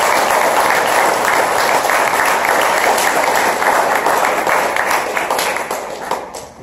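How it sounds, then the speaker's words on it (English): Loud, close applause from the audience at a Democratic candidates forum, a dense continuous roar of many hands that holds steady and then tapers off near the end. "give them a round of applause"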